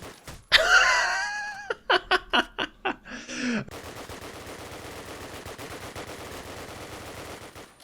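Gunfire in Call of Duty: United Offensive multiplayer, a sharp burst followed by a rapid string of about six pistol shots and a final crack, then quieter game ambience.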